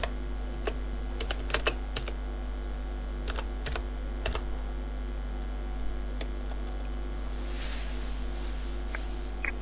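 Typing on a computer keyboard while entering a school name, a series of light, irregular key clicks in short bursts over a steady low hum, close and moderately quiet, no talking.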